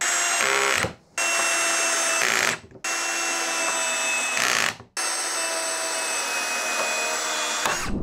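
Ryobi cordless drill in first gear on its lowest setting, running on a small 2Ah battery, driving screws: loud, close whine in four steady bursts, each ending with a brief drop as the screw seats, no talking.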